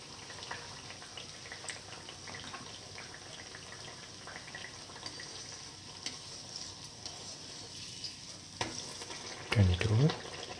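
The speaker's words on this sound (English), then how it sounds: "Let the mixture fry." Fritters of dates and rice flour frying in oil, a soft continuous crackling sizzle close by, with a brief louder clatter of stirring near the end.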